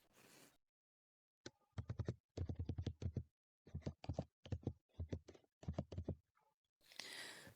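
A mobile number being typed on a computer keyboard while filling in an online form: close, crisp key clicks arrive in quick clusters separated by short pauses, with no talking.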